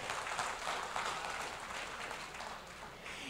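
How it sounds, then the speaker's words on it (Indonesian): Audience applause at the opening of a geological agency colloquium in Indonesia, a dense continuous wash of clapping from a large hall, steady and moderately loud with no speech over it. "Boleh tepuk tangannya lagi Bapak Ibu sekalian?"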